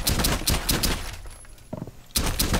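Gunfire in the shooter game Rainbow Six Siege, on the Oregon map: rapid bursts of automatic shots, loud and close, break for a quieter moment with a few softer sounds, then a fresh burst starts.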